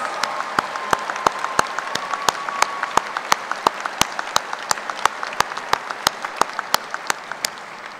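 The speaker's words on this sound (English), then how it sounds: "please stand so we can show our appreciation with a round of applause for mentoring these graduates" Applause for graduate faculty at a spring graduate school commencement: a small crowd claps steadily for about eight seconds, with loud, regular individual claps standing out above the softer, continuous patter.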